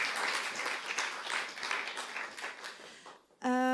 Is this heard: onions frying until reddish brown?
no